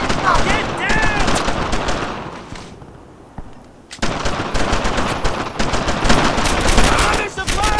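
Loud, dense gunfire in the World War II shooter game Brothers in Arms: Earned in Blood, with sustained machine-gun bursts and shots that drop away briefly before a heavy volley resumes.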